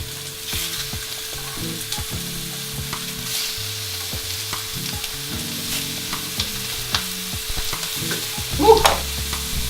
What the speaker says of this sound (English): just put the patties in one by one. That's what you want to hear.